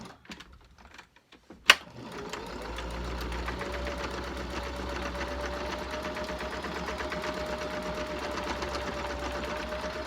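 A sewing machine stitches the pleats of a cloth face mask, starting with a sharp click after a near-silent moment and then running in a steady, fast mechanical patter, close and fairly quiet.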